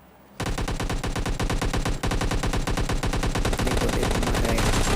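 Rapid automatic AKM rifle fire from the PUBG video game, loud, close and sustained after a brief quiet start, with dense rattling bursts and a short break near the middle.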